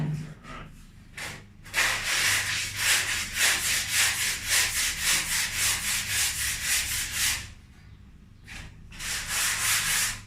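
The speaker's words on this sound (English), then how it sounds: "I'll have to probably sand lighter, because otherwise I'll just follow the contours of the bog and it'll just go wonky" Body filler is sanded by hand on a 1mm steel garage panel in steady, rhythmic back-and-forth rasping strokes, close and fairly loud, with short pauses before and after the main run.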